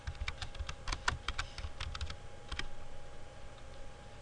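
Rapid, uneven keystrokes clatter on a computer keyboard as data is entered into medical reporting software, a short close burst of clicks followed by a few scattered taps over faint hum.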